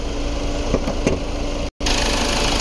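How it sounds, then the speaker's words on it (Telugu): A 2018 Ford Freestyle Titanium diesel car idles close by with a steady, loud rumble and a couple of faint knocks, broken by a sudden cut to silence before the running sound resumes. "ఒకసారి ఇంజన్ స్టార్ట్ చేసిన, ఇంజన్ సౌండ్ చూపిస్తాం."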